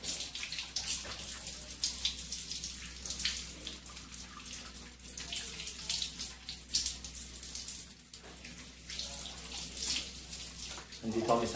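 Water splashing and trickling steadily over a toy poodle in a bathroom bath, close and gentle with uneven pours, while a person speaks softly throughout.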